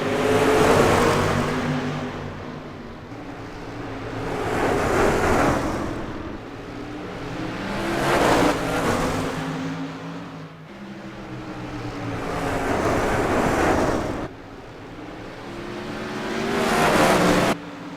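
Open-wheel sprint cars of a 360 series race at Irwindale Speedway, engines roaring loud and close as they sweep past in repeated surging waves, each pass rising and fading over about four seconds with a steady mechanical drone beneath.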